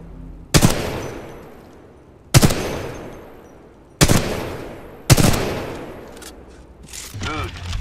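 Weapon gunfire in the video game Titanfall 2: four sharp, loud shots spaced about a second or more apart, each with a decaying tail, followed by a faint whirring mechanical sound.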